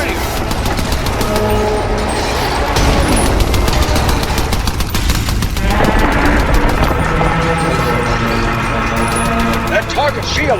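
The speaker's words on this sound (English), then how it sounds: "Not so tough against my artillery cannon, are you?" Artillery cannon firing in the Iron Brigade video game, dense repeated blasts and rattling gunfire mixed with game sounds and a voice, loud and continuous throughout.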